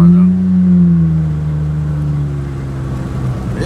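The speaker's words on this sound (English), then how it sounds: "Really like the sound of the car though." A 2010 Nissan Maxima with a 3.5L V6 driving along, heard from inside as a loud, steady low engine drone that eases slightly partway through, with a voice faintly present.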